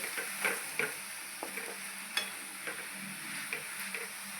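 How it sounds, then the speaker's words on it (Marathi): Ridge gourd sautéing in oil in a home kitchen pan, with a steady low sizzle and scattered soft scrapes and taps of a spoon stirring at an even, unhurried pace. "आता आपल्याला ही गोसाळा आहे ना छान प्रकारे तेलामध्ये परतून घ्यायचा आहे"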